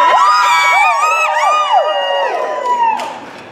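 An audience cheers and whoops loudly at a live music performance, with high shouting voices and whistles layered together, fading slightly near the end.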